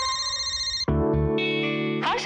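A mobile phone rings loudly with a melodic electronic ringtone of sustained tones that shift pitch partway through, with a brief rise at the end.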